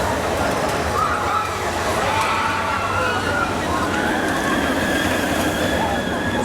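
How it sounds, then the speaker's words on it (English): A monorail train at Europa Park rumbles steadily past, with a continuous rolling roar and faint high wheel squeal, close and loud throughout, with crowd murmur in the background. "So we've got the train going through, monorail"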